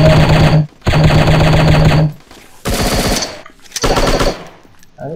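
Bursts of rapid automatic gunfire in a shooting video game, loud and close, in several long volleys separated by brief pauses, with a short sharp sound at the end.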